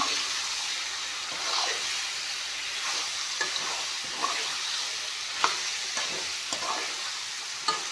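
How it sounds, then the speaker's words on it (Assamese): Chicken meat sizzles steadily in a hot pan, a dense crackling hiss with occasional sharper pops and stirring scrapes, close and continuous. "মাংসখিনি অলপমান ভাজি ল'ম।"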